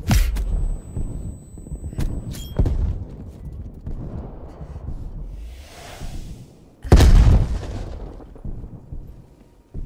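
A Molotov cocktail bursts in Call of Duty Black Ops Cold War, one loud whooshing fiery blast near the end following scattered gunshots and thuds of combat earlier in the clip.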